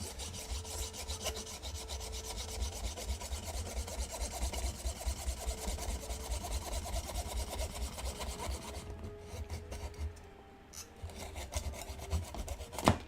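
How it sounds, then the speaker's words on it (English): Wood being sawn or filed by hand in a hot workshop, a steady rasping stroke repeated continuously and close up, pausing briefly near the end before resuming, with a fan humming in the background. "I'm sawing away in here."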